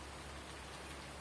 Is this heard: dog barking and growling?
no